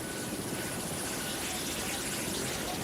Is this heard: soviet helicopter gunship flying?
yes